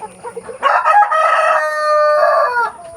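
A Rhode Island Red rooster crows once, loud and close, in a single long drawn-out call lasting about two seconds, preceded by faint background clucking and barnyard noise on a free-range farm.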